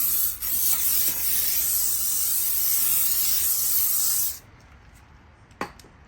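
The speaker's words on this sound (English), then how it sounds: "Let's give that a bit of a surface spray." An aerosol surface spray against ants on a NICE gate motor, a continuous close hiss lasting about four seconds that then stops abruptly, followed by a faint click.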